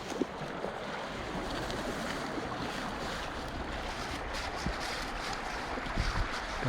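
Strong river current rushing past a shallow fishing spot, a steady broadband wash of flowing water with some wind buffeting the microphone, continuous and moderately loud with no talking.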